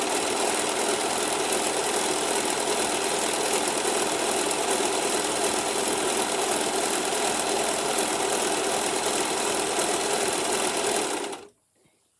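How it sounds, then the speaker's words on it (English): A Singer Profinish serger runs steadily, sewing a straight stitch on fabric, with a loud continuous mechanical whir and rattle for about eleven seconds before stopping abruptly, leaving near silence. "I'm going to put my machine back to normal straight stitching."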